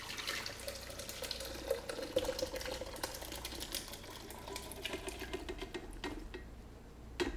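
Hot butternut squash and apple soup pours into a blender, splashing steadily with chunky spattering, a continuous wet gurgle lasting several seconds, close by, with no talking.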